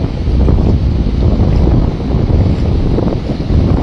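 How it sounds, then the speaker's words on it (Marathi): Big sea waves and strong wind on the Konkan coast of Maharashtra, heard as a loud, continuous roar buffeting the microphone, with gentle swells in loudness and no voices. "मोठा समुद्र"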